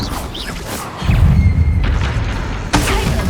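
A Confringo blasting spell from a PlayStation Harry Potter game lands as a loud booming explosion with a deep rumbling tail, then a second sharp burst follows near the end.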